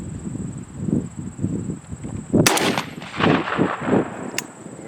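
A New England Pardner 28 gauge shotgun fires at 20 yards on a windy outdoor range: one sharp, loud blast mid-clip over a constant low wind buffeting, with a brief click near the end.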